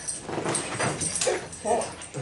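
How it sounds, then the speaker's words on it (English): An excited dog whimpers and yips in a few short, high bursts, fairly close and loud over a busy indoor room with people talking during a presentation on growing microgreens. "That dog is very excited."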